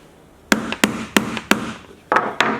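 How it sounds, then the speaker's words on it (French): A nail puller is worked into wood to extract a nail from an old doll trunk, with six sharp, close metallic taps in a quick irregular series. "Voilà, le clou est extrait, il n'y a plus qu'à l'arracher."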